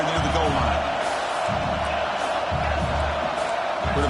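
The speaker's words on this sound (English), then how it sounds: "this big crowd doing everything possible to inspire this defense down here near the goal line" A big stadium crowd at a Clemson football game roars and cheers near the goal line, a loud, sustained wash of noise with swelling pulses under a commentator's voice.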